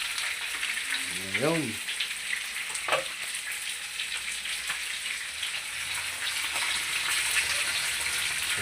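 Catfish fry in a pan with a steady close crackling sizzle, and broth poured in adds a brief gushing splash; a voice speaks briefly over the cooking.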